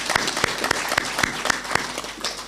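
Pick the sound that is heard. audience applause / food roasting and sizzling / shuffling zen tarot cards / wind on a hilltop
audience applause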